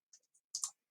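Quiet, sharp computer mouse clicks while selecting holes in CAD software, a few light taps followed by a closer double click, close and isolated.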